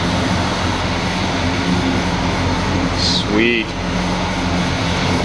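A 1971 Oldsmobile Cutlass idles steadily right after its first start, a loud, close, continuous engine drone with a belt-like squeal, as someone briefly speaks over it.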